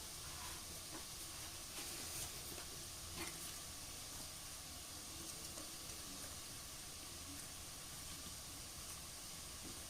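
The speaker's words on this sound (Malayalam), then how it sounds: "നല്ല പോലെ നമുക്കിനി ഇത് വഴറ്റിയെടുക്കാം" Chicken masala with onions and curry leaves sautéing for a chicken roast, giving a faint, steady sizzle and hiss that runs evenly throughout with no talking.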